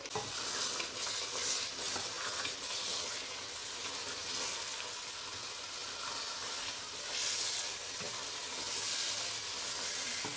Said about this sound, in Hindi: दाल भुन गई है, घी छोड़ दी है।